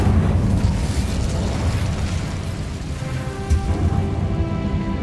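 An Incendio fire spell in Hogwarts Legacy roars as a loud, continuous whoosh of flame with crackling and popping bursts throughout, sustained for several seconds.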